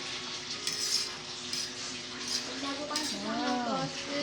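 Spaghetti is stirred in a cooking pan over a gentle sizzle, with repeated scraping strokes and light clinks of utensil against metal, and a brief voice near the end.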